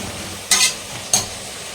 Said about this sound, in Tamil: இந்த புதினா, தக்காளி, கொத்தமல்லிலாம், பச்சை மிளகாலாம் வதங்கட்டும்.